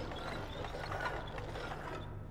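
A grinding machine in Little Nightmares churns with a steady mechanical rumble, low droning hum under rattling, ratchet-like clatter, continuous and moderately loud throughout.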